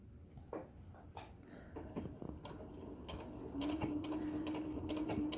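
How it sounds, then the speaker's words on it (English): Sewing machine stitching along the cut edge of a fabric tote bag, a busy mechanical whir with rapid needle ticks, steady and close, rising slightly in the second half. "now you are going to stitch along that edge"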